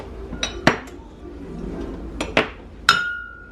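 Several sharp metallic clanks as a pan is handled and set down on a kitchen stove to heat, spaced irregularly, close and bright, the last one ringing out with a sustained metallic tone.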